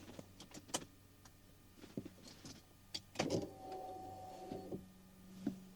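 A car's electric fuel pump whirs steadily for about a second and a half when the ignition is switched on, amid scattered clicks and small mechanical ticks, fairly faint and close, with no talking.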